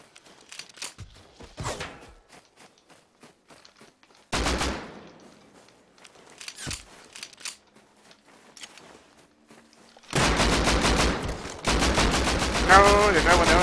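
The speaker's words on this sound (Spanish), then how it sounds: "Ah, que me disparan entre dos." Gunfire in the survival video game Rust, with scattered single shots and then long loud bursts of automatic fire near the end, and brief player speech between them.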